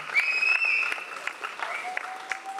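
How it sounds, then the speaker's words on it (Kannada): Audience applause at a film critics award ceremony, a steady burst of clapping from a crowd lasting a couple of seconds, with faint tonal music ringing above it. "ದಯವಿಟ್ಟು ಜೋರಾದ ಚಪ್ಪಾಳೆ ಬರಬೇಕು."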